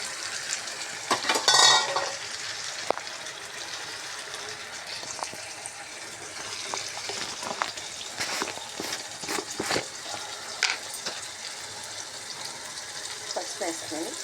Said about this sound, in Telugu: ఇది పప్పు గుత్తితో మెత్తుతాను, కలుపుతాను.